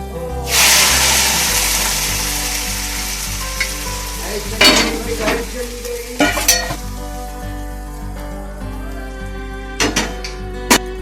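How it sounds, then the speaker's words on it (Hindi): A tadka tempering hits hot ghee over mash daal with a loud initial burst of sizzling that gradually fades, followed by several sharp metallic clinks of a spoon against the pot and lighter stirring. "अब हम इसको भगार लगा रहे हैं।"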